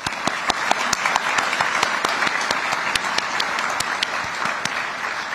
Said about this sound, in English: we want to be sure and give applause for the previous honorees for this prestigious award